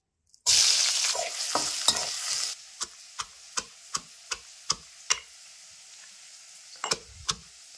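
Chopped onions drop into hot oil with a loud, steady sizzle, followed by a series of sharp, evenly spaced spatula taps and scrapes against the pan, with the frying hiss continuing quietly underneath. No one speaks.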